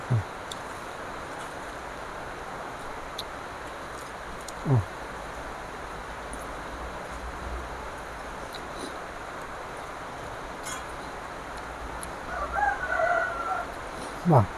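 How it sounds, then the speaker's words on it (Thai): A rooster crows and chickens cluck amid a rural outdoor setting with ducks nearby, the calls faint and intermittent over a steady background hiss, with a louder burst of fowl sounds near the end. "จะได้ยินเสียงเป็ดเสียงไก่นะบรรยากาศแบบธรรมชาติ"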